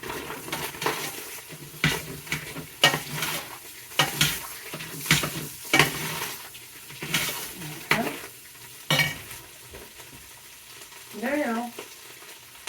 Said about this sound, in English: I want to add my rice. So my rice can get that burger flavor.